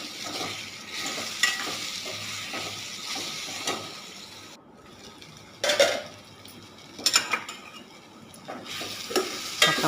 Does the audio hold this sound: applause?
no